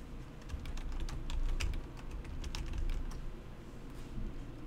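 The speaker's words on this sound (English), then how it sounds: "Typing all these damn buttons." Rapid clicking keystrokes on a computer keyboard, close and steady, in irregular bursts with no talking.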